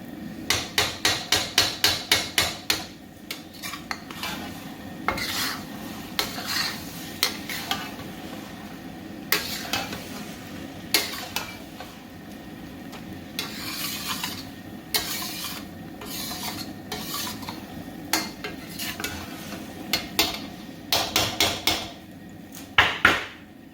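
Drunken noodles stir-fry in a wok, with rapid loud metallic scraping and clanking of the spatula in bursts over a continuous sizzle, the strokes coming quickly at the start and end.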